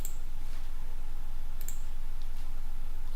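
Two or three sharp mouse clicks, at the start and around the middle, small and close, over a steady low hum, with no talking.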